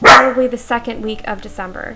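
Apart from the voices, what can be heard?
dog barking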